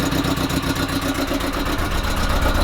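A 1986 Porsche 944 engine runs steadily through an aftermarket stainless steel exhaust, a loud, even idle with a constant low rumble and no break across the whole stretch.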